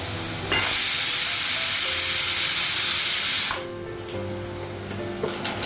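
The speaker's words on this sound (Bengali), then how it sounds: "পেঁয়াজটা ভাজা হয়ে গেছে" Onions frying in a pan on a home kitchen stove give a loud burst of hissing sizzle for about three seconds, then settle into a quieter background crackle.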